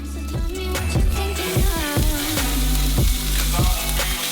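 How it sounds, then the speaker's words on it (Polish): Bacon sizzling loudly in a hot frying pan as its fat renders, with rhythmic clinks and scrapes of a utensil stirring through the crackle. "Następnie w kolejce jest boczek, rzucamy go na patelnię."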